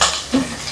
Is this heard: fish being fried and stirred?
yes